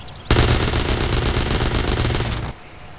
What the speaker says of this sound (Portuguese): do som das armas de GTA V